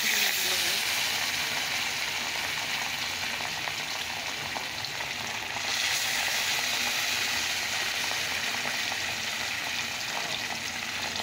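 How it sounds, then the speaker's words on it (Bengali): Fish frying in hot oil on a gas stove, a steady loud, dense sizzle and crackle that holds unbroken throughout, close by. "চলো মাছগুলো ভেজে নেই।"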